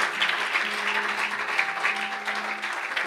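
A church congregation at a seminar applauds together, a dense sustained clapping filling the hall evenly for several seconds with no speech over it.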